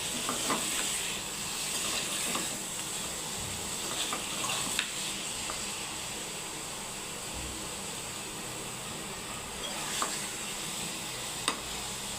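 Thin paneer slices shallow-fry in a pan, producing a soft, continuous sizzle with a few faint clicks and pops, fairly quiet and steady throughout.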